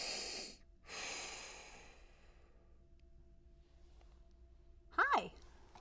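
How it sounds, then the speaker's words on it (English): A person takes a couple of slow deep breaths, each a long airy inhale and exhale up close, followed by a short quiet pause and a brief vocal sound. "Couple deep breaths"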